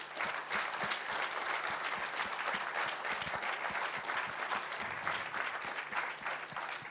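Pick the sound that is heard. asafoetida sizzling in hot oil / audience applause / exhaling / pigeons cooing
audience applause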